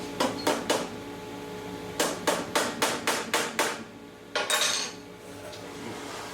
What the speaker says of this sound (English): We know how to hit stuff with hammers.